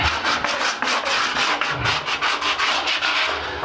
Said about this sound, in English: So I want to go over that with the sandpaper too.